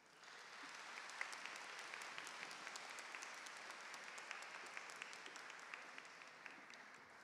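Graduates and guests at a 2025 high school graduation ceremony give a faint, distant wash of sustained applause that rises, holds steady and tapers off slightly.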